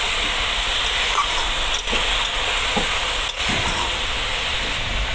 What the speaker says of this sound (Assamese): মই এইখিনি ভালকৈ চব্জিখিনি লৰাই দিম। এনেকৈ তল ওপৰ কৰিম গোটেই চব্জিখিনি